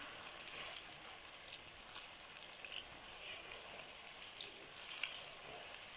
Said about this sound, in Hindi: घी मैंने आधा कप डाला है इसमें। ज़रा ये फ्राई हो जाए इसमें।